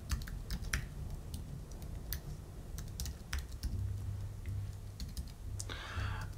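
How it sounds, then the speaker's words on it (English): Rapid, irregular clicking of a computer keyboard as code is typed for a class function, close and fairly quiet, with no talking. "So here I am typing the code of my class function myAlert"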